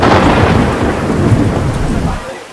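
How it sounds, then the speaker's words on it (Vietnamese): Steady rain with rumbling thunder during an outdoor gathering in a rural village, a loud continuous wash that fades slightly toward the end. "Mưa rồi các bạn, mưa nhỏ này."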